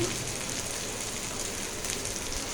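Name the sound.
onion frying in oil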